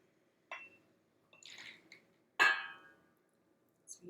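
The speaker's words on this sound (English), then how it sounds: "I'm going to pour out a little for Jane." Rum tea cocktail poured into a glass, heard as a few short splashing, trickling bursts separated by quiet gaps, with a faint clink near the end; close and fairly soft, with no talking.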